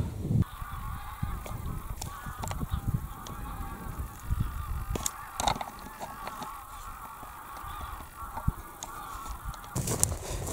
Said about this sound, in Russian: Сейчас, можно сказать, был пробный вылет гуся.